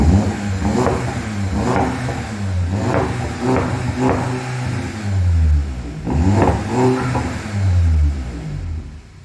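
A Golf 7 GTI with a modified exhaust is revved repeatedly, its engine rising and falling in several deep, throaty pulls with crackles as revs drop, loud and close.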